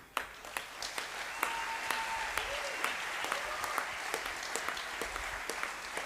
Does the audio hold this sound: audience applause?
yes